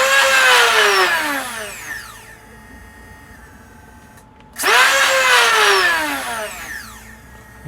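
Brushless flywheel motors in a modded Nerf Stryfe with Gen 2 cages rev up, two loud whining spin-ups that each rise and then fade as they wind down, close by.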